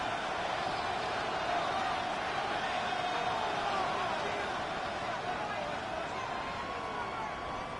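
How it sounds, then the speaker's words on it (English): A Madden football video game stadium crowd roars as a dense, continuous wall of cheering that holds steady throughout at moderate loudness. "The crowd cranking it up another notch before 3rd and long."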